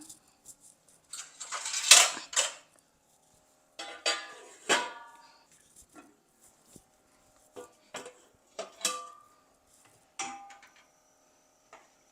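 Sparse metallic clinks and taps of kitchenware as a lid is placed on a cooking pot of brinjal biryani, including a sharp clatter early on, separated by quiet pauses.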